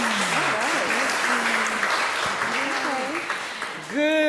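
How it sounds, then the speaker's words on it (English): An audience at a ring shout and praise house celebration claps continuously, a dense wash of hand claps beneath a voice speaking over it throughout. "go ahead and clap your hands, let us know"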